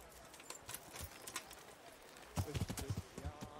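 Horse hooves clip-clop in Kingdom Come: Deliverance, first as soft, scattered steps, then as a closer, louder run of rhythmic hoofbeats in the second half, with faint talk in the background.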